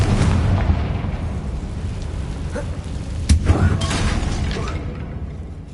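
A Confringo blasting spell explodes in Hogwarts Legacy against a damaged bridge, a short sharp burst rising out of a loud, dense rumble of game ambience that continues steadily throughout.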